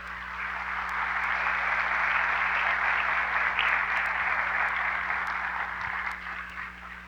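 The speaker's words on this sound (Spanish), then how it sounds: "Denle un aplauso al Señor, pues." A church congregation applauds together, a steady, dense wash of clapping that swells and holds for several seconds before easing off slightly, heard from a moderate distance.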